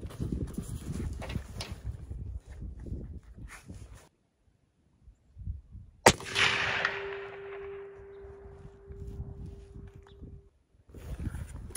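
A single loud, close rifle shot from a Christensen Arms Ridgeline in 300 Win Mag cracks out sharply and echoes off into the distance, with rustling and handling noise before and after.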